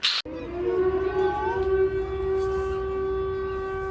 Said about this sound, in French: La sirène des pompiers, est-ce que vous l'entendez chez vous?